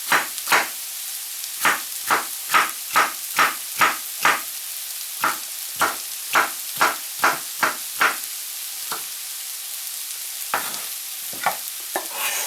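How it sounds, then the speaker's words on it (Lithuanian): A knife slices a bell pepper on a cutting board in quick, sharp, evenly spaced chops that come in bursts with short pauses, close and crisp against a quiet kitchen. "pjaustom papriką."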